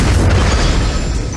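A heavy explosion of supporting fire in a video game, loud and close, with a deep rumbling boom that stays full before slowly thinning out.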